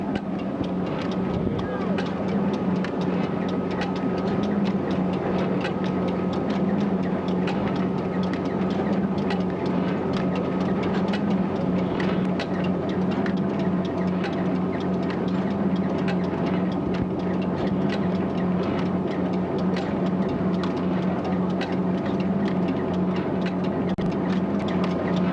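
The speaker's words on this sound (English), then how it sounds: "It's got it working now, with a thresher and a medium baler on the rear end." Chelmsford portable steam engine at a 1986 steam rally, driving a threshing machine and a medium baler off its rear end: a steady, continuous droning hum and mechanical rumble of threshing machinery, loud and unbroken throughout.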